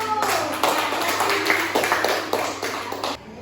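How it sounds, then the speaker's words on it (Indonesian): A primary school class claps for a group of pupils, scattered hand claps rising and falling in a classroom, with light voices and a teacher heard around them before stopping abruptly. "tepuk tangan untuk kelompok 1"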